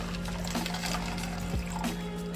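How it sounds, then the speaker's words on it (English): Water pours into a drink mixer holding powder, a steady close trickle with faint splashes and a low hum throughout. "Dump in the water."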